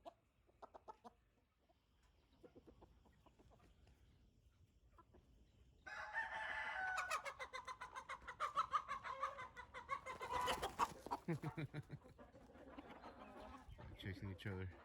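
Oriental chickens and roosters cluck and crow in a farmyard, starting with soft scattered clucks, then loud close crowing and busy clucking that dominate the second half, with a voice speaking faintly underneath.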